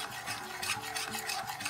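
A thick mix of cheese, flour and butter is beaten in a pot with quick, continuous scraping and rubbing strokes, fairly quiet and even, with no voices.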